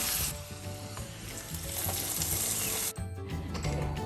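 Cashews and raisins fried in ghee being tipped into palada payasam, a loud bright sizzle with clinking stirring, then a sudden drop and a shorter, duller bubbling afterward, no speech.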